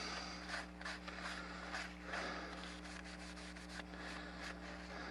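Leather being rubbed by hand with a finish coat, worked into the nooks of a multi-tool case pouch; a soft, continuous, faint rubbing texture with occasional brisker strokes over a steady low electrical hum.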